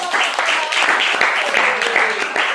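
Applause from students at a school class presentation, a short burst of quick scattered clapping close by with voices mixed in beneath it.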